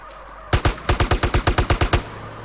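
Rapid gunfire in GTA: about eleven sharp, evenly spaced shots ring out in quick succession after a brief quiet start, then stop abruptly.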